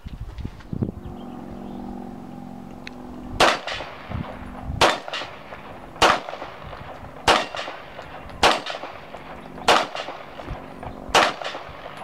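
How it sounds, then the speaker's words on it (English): A Beretta 92F semi-automatic 9mm pistol fires seven sharp, loud shots at steady intervals of a little over a second, each crack ringing briefly, with no talking. "Got a Beretta 92F semi-automatic 9mm pistol."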